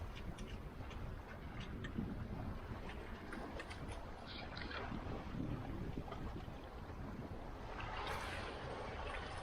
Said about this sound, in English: we are now sailing on a broad reach, heading back to port.